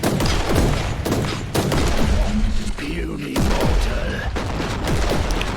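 Gunfire in the Warhammer 40,000: Inquisitor video game, a dense run of loud shots and booms fired into grouped enemies, heard with someone talking over it throughout.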